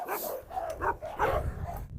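Doberman and Cane Corso barking close by: several sharp, loud barks in quick succession with brief whines between them.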